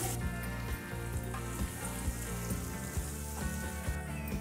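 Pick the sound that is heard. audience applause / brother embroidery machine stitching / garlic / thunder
garlic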